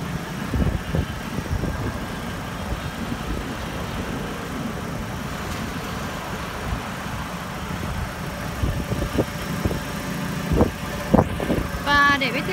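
Steady idle of a 2008 Chevrolet Lacetti EX car engine, a continuous close low rumble with a voice talking over it and a few brief knocks and clicks near the end.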